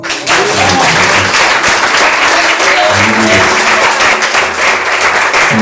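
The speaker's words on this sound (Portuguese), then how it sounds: "Um aplauso ao Senhor." A church congregation applauds during worship, a loud, sustained roar of many hands clapping close by, with faint voices and a low musical tone murmuring underneath.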